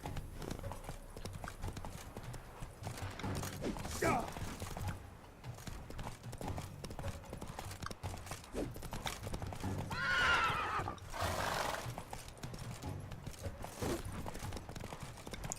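In The Witcher 3 mounted combat, a horse's hooves clip-clop steadily at a gallop throughout, broken by loud whinnying neighs around the fourth second and again near the tenth, over a busy game soundscape.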